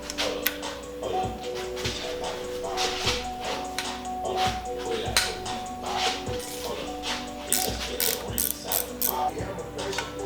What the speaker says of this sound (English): Now I'm just gonna use a 10 mil ratchet wrench on these.